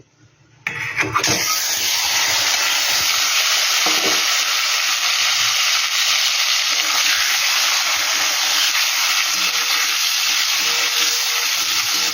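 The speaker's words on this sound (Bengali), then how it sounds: "একই তেলে আমি ডিমটা ভেজে নিচ্ছি।" An egg frying in oil left over from frying potatoes, for egg pulao, bursts into a loud, steady sizzle after a brief quiet start and crackles evenly throughout without talk.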